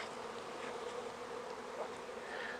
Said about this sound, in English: see the bees are looking for their entrance